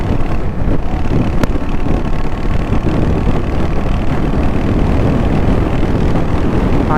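A Royal Enfield Hunter 350 motorcycle, 2025 model, pulls hard during a top-speed test, its engine drone loud and continuous, blended with heavy rushing wind across the whole stretch.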